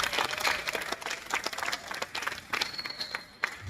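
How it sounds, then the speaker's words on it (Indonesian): Lecture hall audience at a university public lecture applauding, dense overlapping clapping from many hands at moderate level, steady throughout with no speech on top. "Tepuk tangan."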